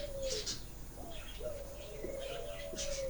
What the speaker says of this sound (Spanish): se escucha el canto de las palomas